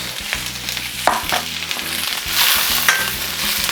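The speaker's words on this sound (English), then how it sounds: "And then we can add all our vegetables. Keep that heat up. Not forgetting our bean sprouts." Vegetables and bean sprouts stir-frying over high heat for chicken chow mein, a continuous loud sizzle with intermittent scraping and tossing sounds from the pan, close up and without speech.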